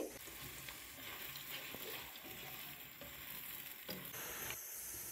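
Thinly sliced onions frying to brown in oil or ghee, a faint, even hiss and crackle with soft stirring movements, quiet and alone.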